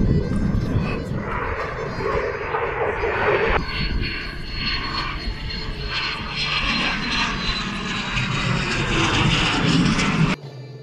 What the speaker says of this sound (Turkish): it dalaşı yapan Türk ve Yunan uçaklarının dehşet verici gürültüsü bu sessizliği ürkütücü bir şekilde bozdu